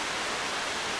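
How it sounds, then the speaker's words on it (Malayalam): Heavy rain pours outside as a dense, steady hiss of broadband noise, loud and unbroken with no other sounds. "ഇവിടെ നല്ല മഴയുണ്ട് കേട്ടോ"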